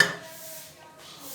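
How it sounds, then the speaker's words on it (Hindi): A metal pressure cooker is set down on a kitchen stove, one short clattering knock of metal on the burner grate followed by a faint lingering ring, with no talk. "हम अपने इस प्यारे से चूल्हे के ऊपर रख लेंगे जी प्रेशर कुकर"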